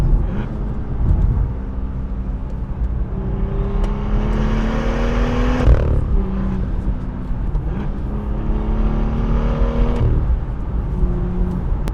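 A first-generation BMW M2 engine revs hard on a track and climbs through gears, roaring up and dropping back repeatedly, loud and close with a steady mechanical whine.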